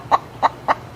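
Backyard chickens cluck in four short, evenly spaced bursts, close and clear, with a faint outdoor background between the calls.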